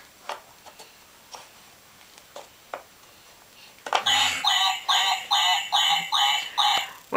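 A voice imitates a duck, quacking about seven times in a quick, steady series after a few soft clicks.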